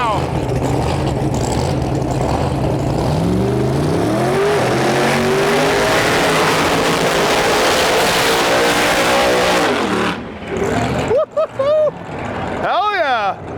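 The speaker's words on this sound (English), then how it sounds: "We're gonna watch Mo Power do a big nasty burnout right now." Mo Power's Ram drag car roars through a long, very loud burnout at a dragstrip, engine droning with rising and falling pitch for about ten seconds before cutting out, then short revs and crowd noise follow.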